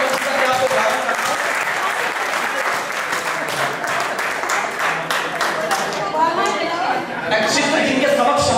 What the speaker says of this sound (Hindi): एक बार पूरा सरल ताली बजाए